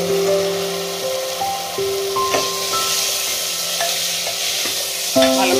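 Chickpeas being stirred and fried in a masala of tomato puree, onion and ginger for Amritsari chole, a steady sizzle with scraping spoon strokes against the pan, close and continuous.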